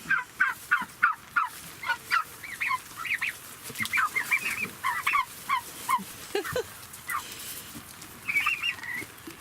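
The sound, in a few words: turkeys gobbling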